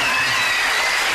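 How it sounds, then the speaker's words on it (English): Studio audience at a televised family game show breaks into steady, full applause that fills the whole short moment, loud and close with no talking over it. "Give them a big round of applause, ladies and gentlemen."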